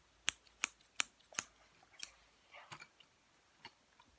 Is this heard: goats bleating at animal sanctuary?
no